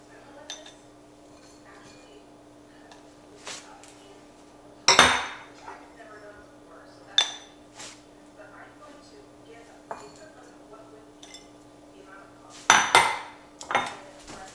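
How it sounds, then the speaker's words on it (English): Dishes clinking as sourdough biscuits are put into bowls, with sparse sharp clinks and knocks of crockery and cutlery scattered over several seconds, close by, while a person talks throughout. "So we're gonna just put them in bowls, and they're gonna be like breakfast bowls."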